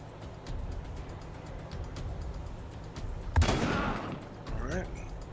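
Gunfire in the video game Wasteland 3, one sharp loud shot with a brief rumbling tail amid quieter background game sounds, with a person talking.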